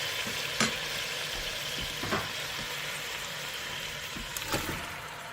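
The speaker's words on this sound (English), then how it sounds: "They're gonna give a nice little sizzle." Continuous sizzle of Roma tomatoes frying in a pan, an even crackling hiss with a few sharper pops and spatters scattered through it.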